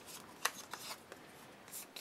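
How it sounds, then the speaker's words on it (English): Scissors snipping a slit into a handmade greeting card, a few soft, quick crisp cuts and rustles of card close up, with no talking. "to do that I just take a pair of scissors"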